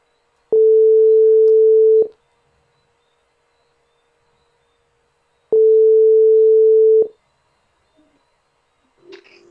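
Steady telephone dial tone heard during an attempt to call someone, two sustained, loud, even beeps of about a second and a half each separated by a few seconds of silence, followed by faint noise.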